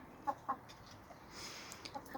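Backyard chickens, former commercial laying hens, give a few soft, separate clucks close by, with brief pauses between them over a low ambient background.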